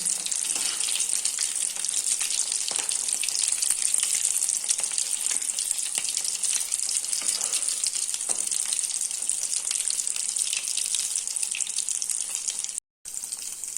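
Peanut and potato cutlets frying in oil on a low flame, with a steady, bright sizzle and bubbling that continues evenly throughout before cutting out briefly near the end.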